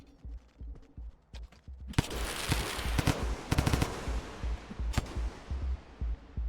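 Grenade blasts in the video game Rain World, a series of sharp, loud bursts with crackling rapid impacts rolling through a busy, noisy scene, one strong blast standing out near the end.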